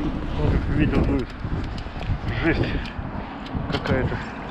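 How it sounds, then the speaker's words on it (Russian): Gusty wind buffets the microphone with low rumbling roar, loud and steady, while a voice speaks over it. "Вот как ветер дует."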